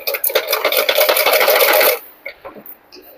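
A domestic sewing machine stitching a blouse runs fast and loud for about two seconds with a rapid mechanical chatter, then stops, leaving a few soft clicks and handling sounds.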